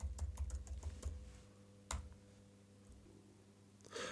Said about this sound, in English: Make sure you type in your password.